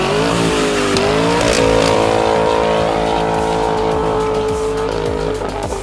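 A 2019 BMW 330i turbo fitted with a Kinney's Street Demon performance exhaust, heard up close and loud as the engine revs and holds a steady, droning exhaust note, with pitch shifts as the throttle changes.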